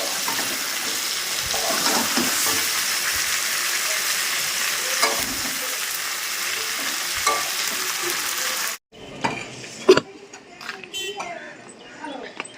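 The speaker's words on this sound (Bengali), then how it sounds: "সব মশলা দিয়ে আদা বাটা জিরে বাটা লঙ্কার গুঁড়ো নুন হলুদ টমেটো সব দিয়ে এখন কষাচ্ছি" Ginger paste, cumin paste, chili powder, salt, turmeric and tomato for a fish curry sizzle hard in a pan under steady stirring, then the sizzle cuts out and a few softer clinks and knocks of utensils follow.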